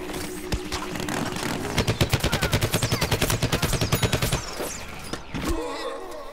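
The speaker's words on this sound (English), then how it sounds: "I don't know who's shooting me there." A fast, evenly spaced burst of automatic gunfire in Plants vs. Zombies: Garden Warfare, loud and steady for a couple of seconds amid other game shots and effects.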